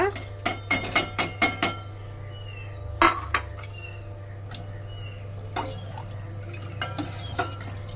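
Vermicelli is stirred into milk in a metal pot, starting with a quick run of six rhythmic, clanking spoon strokes. A louder knock follows, then softer scraping stirs over a low steady hum.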